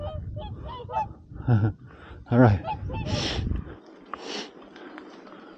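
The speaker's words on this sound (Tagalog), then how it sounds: "Mga pabo guys, kita nyo ba?" Loud honking turkey calls come in bursts close by, mixed with a person talking and a brief sniff, with a quieter stretch near the end.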